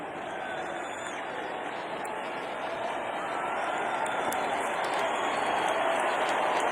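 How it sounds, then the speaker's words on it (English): Steady, broad applause from Georgia fans fills a college football stadium during the Sugar Bowl against Baylor, a sustained crowd wash that holds even and slightly swells throughout. "Appreciative round of applause from the Georgia fans."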